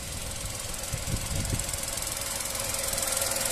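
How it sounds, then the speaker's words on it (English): A grey 2010 Volkswagen Fox 1.2 petrol three-door hatchback idles steadily with a smooth, even engine hum and faint rhythmic ticking, heard alone and close. "engine sound nice and smooth"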